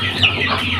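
A short, close cluck from young chicks being raised, a single soft call standing alone without any voices.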